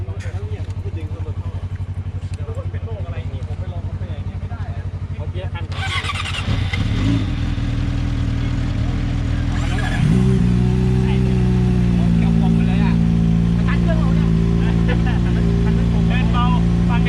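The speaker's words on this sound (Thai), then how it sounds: "ลองเทสเสียงท่อ ตัวต่อตัว กับ R6 และ ZX 25R" A Yamaha R6 or Kawasaki ZX-25R sport motorcycle's exhaust idling with a steady throb, then loud revs that rise and hold at a higher, rasping pitch, close to the bike.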